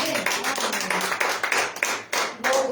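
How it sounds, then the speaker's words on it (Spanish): A church congregation claps in praise during a worship service, giving a loud, lively round of applause with uneven hand-claps and some brief pauses and bursts near the end. "Un aplauso al Señor."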